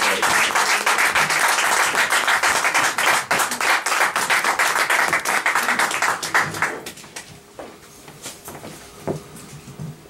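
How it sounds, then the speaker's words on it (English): A club audience at a spoken word event claps loudly and steadily to welcome a performing duo, a dense roar of applause that tapers off into scattered claps and room noise. "keep clapping till they get up here"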